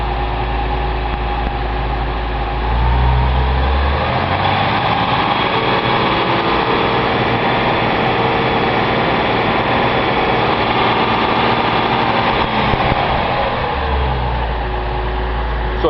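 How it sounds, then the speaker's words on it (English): A Datsun 280Z engine runs at idle, then revs up and holds a higher, steady roar during an alternator test before dropping back to idle near the end, loud and close. "I'm going to rev it up and see how it does."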